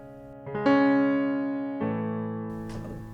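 Left-hand piano part of a song (live version), with low sustained chords struck one after another and left to ring and fade, a final chord entering near the end.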